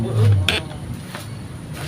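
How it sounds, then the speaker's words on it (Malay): A knife slices through cabbage for fried rice, giving a few separate crisp cuts spaced well apart, close up, with a low hum underneath. "Sekarang akak nak iris kobis."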